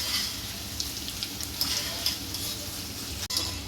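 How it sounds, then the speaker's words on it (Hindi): Spicy namkeen mixture fries in very hot oil in a kadhai, a soft continuous hiss with scattered small pops and one sharp click, close but fairly quiet. "थोड़ा थोड़ा डालकर और इसे तल लेना है। ये ज़्यादा गरम तेल में ही तला जाता है"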